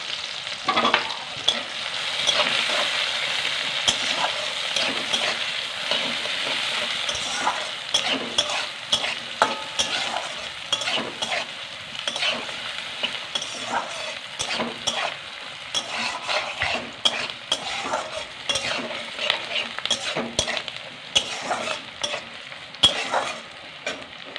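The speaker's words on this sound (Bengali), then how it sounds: "পেঁয়াজটা একটু হালকা ভেজে নিয়েছি" Onion and green chili fry with five-spice seeds in a pan for an egg and red lentil dal, making a loud, sustained sizzle broken by frequent scraping stirs, with no talking.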